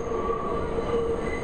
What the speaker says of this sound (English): sounded a train pulling in below us